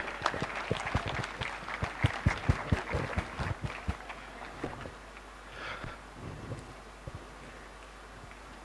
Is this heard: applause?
yes